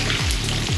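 Cinnamon, cardamom and cloves sizzle loudly in hot oil in a pan for fish biryani, a steady close frying hiss with faint stirring scrapes and no voices.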